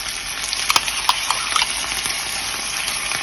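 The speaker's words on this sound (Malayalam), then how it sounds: "അപ്പം നമ്മള് മറ്റേ സൈഡും തിരിച്ചിട്ട് കൊടുത്തിട്ട് പാൽ ഒഴിച്ചു കൊടുക്കാം" Coconut milk is poured into a pan of frying kanthari prawns, giving a loud, continuous sizzling hiss close by, with a few brief clicks and spatters near the start.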